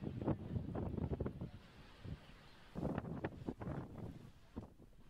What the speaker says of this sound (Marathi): त्यातच वाऱ्याचा वेगही वाढलेला आहे.